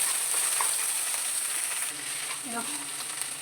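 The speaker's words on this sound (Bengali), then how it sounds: "এরকম নেড়ে নেড়ে ভেজে নিতে হবে" Radish greens frying with garlic in a pan give a steady, close, loud sizzle with soft stirring scrapes, without talk.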